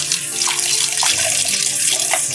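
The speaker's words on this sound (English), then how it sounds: "we're just gonna keep on rinsing it, dumping the water out" Tap water runs steadily into a kitchen sink while food for chicken pozole is rinsed, a continuous splashing gush up close with small bursts of sloshing and no voices.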